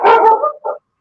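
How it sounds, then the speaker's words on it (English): A dog gives one loud, close bark followed by a short, softer yip, heard alone in a quiet room. "Sorry, that's my dog."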